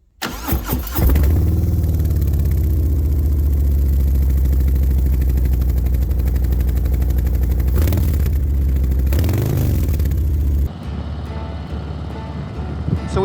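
A Harley-Davidson Heritage Classic 114 motorcycle starts and then rumbles steadily at a low throb on a cool ride, loud and close, with brief revving swells and wind noise.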